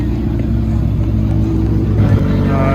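A McLaren twin-turbo V8 supercar idles nearby with a deep, steady low rumble and a faint burble, running continuously with no revving.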